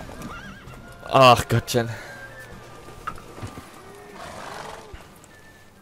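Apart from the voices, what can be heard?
horse galloping in a race, The Witcher 3 video game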